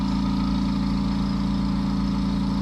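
KTM 390 Enduro R motorcycle engine running on a dyno, with a loud, steady, close-up drone that holds without a break.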